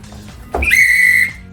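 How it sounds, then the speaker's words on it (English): A single shrill emergency whistle sounds once for help, a loud steady high blast lasting under a second, alone with no voices. "And also a whistle to signal for help."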